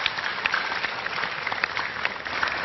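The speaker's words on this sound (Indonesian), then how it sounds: "Beri tepuk tangan untuk dua bintang tamu saya." Studio audience applause on an Indonesian health talk show, a steady wash of clapping at moderate level with no speech over it.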